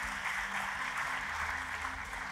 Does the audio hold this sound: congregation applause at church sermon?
yes